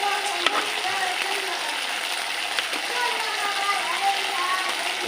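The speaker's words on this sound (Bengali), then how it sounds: "এবার কেটে রাখা টমেটো দিয়ে দেবো। মশলাটা দিয়ে একটু ফ্রাই করে নেব।" Chopped tomato and spices sizzle and fry in a pan while an omelette curry is cooked, a steady close crackle running under a voice speaking throughout.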